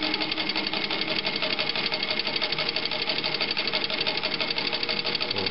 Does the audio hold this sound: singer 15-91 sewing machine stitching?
yes